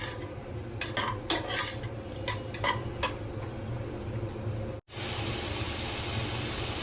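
Beetroot sautéing and being stirred in ghee in a pan, a steady soft sizzle under scattered scraping and clinking of a spoon against the pan, with a brief dropout near the end before the sizzle resumes.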